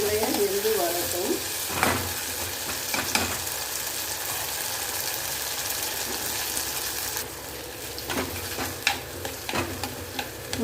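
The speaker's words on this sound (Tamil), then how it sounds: "இது நல்லா வதங்கி பொரிஞ்சு வரட்டும்" Bitter gourd frying in ghee for a traditional curry, a steady close sizzle with stirring scrapes and occasional spoon knocks, no voices.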